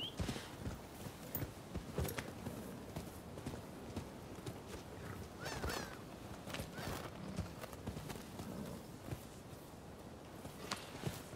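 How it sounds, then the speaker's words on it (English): Horse hooves clip-clop in the Rise of the Ronin video game, a rhythmic walking beat of hoof strikes with a brief whinny, kept fairly quiet under faint game ambience. "Horsey."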